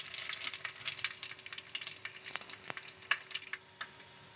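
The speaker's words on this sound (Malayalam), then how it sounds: "അപ്പോൾ കടുക് പൊട്ടി വന്നിട്ടുണ്ട്." Mustard seeds popping and crackling in hot oil with fenugreek, sharp snaps over a steady sizzle, a few louder pops standing out before it settles.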